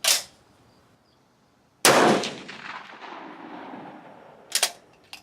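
A rifle fires GP-11-style loads through a chronograph during load development. Two sharp, loud reports ring out with long echoing decays, and a fainter double crack follows later.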